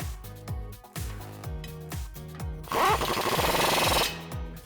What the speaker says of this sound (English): we're going to use a 14mm socket to secure that